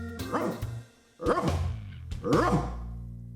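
A voice imitates a dog, giving three loud, close barks with gaps between them while he tries to put out a flame in a test of whether voice can extinguish fire.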